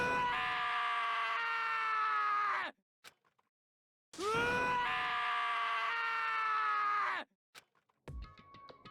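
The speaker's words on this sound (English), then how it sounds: "Taka's sad screams invaded our skulls." Two long, loud harmonic screams from a game character during an execution scene in Danganronpa, each lasting a few seconds and separated by a short gap, followed by a brief electronic tone.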